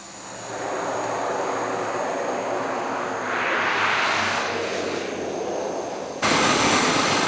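A fixed-wing passenger plane arrives at Lukla airport in the Himalayas after a 50-minute flight from Kathmandu, its engine roar loud and steady, swelling briefly, then cutting sharply to a brighter wash of noise near the end.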